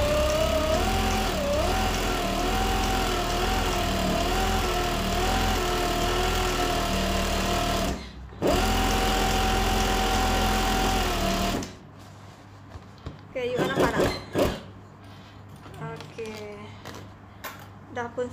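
A sewing machine runs zigzag stitching in long steady whirring bursts, with a short break, before stopping; afterward come quieter clicks and handling sounds, and someone speaks.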